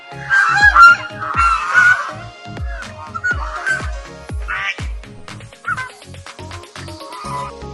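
Ducks and geese at a village farm resort near Chennai, honking and calling repeatedly and loudly up close, over a steady rhythmic thumping in the background.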